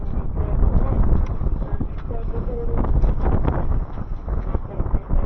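Steady wind at sea buffeting the microphone aboard a small sailboat on a light breeze, a continuous low rumble with brief gusty swells.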